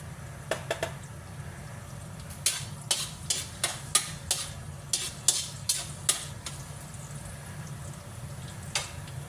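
Unpeeled garlic frying in hot cooking oil, a low continuous sizzle punctuated by a series of sharp clicks and taps as the pieces are stirred in the pan, close and without talk.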